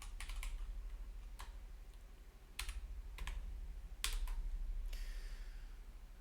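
Keys on a computer keyboard are tapped in short, sparse clusters of crisp clicks, quiet and close, with pauses between bursts over a faint low hum.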